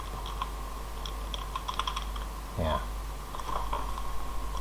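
Computer keyboard keys tapped while working in Blender 2.79: scattered, uneven clicks and short bursts of typing, close and fairly quiet, with a steady electrical hum underneath.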